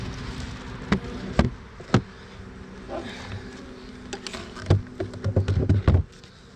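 A bee colony at a hive in a beeyard drones with a low steady hum, joined by several sharp taps and a few louder buzzing swells toward the end.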